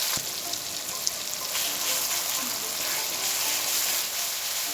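Onions and tomato fry in hot oil for mutton tahari, giving a steady close sizzle that stays even throughout with a few faint clinks.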